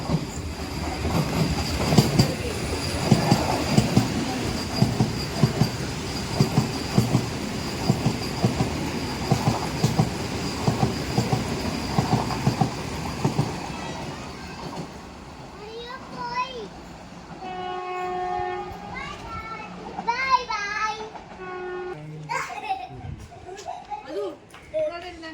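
A passing long-distance passenger train from Kayamkulam, Kerala, rumbles and clatters loudly over the tracks, then fades as people talk and call out nearby; no clear horn stands out.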